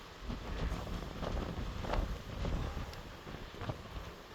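Gusty wind buffets the microphone in Edinburgh, rumbling and roaring in uneven surges with no voices.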